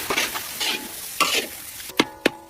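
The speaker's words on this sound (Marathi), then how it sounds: "मिरची पावडर परतून घेऊ." Chilli powder and ground curry leaf paste sautéing in a pan for a Maharashtrian thecha: quick scraping, sizzling stir strokes up close, then three sharp taps of a spoon against the pan.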